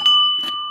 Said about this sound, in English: along with a dinner bell.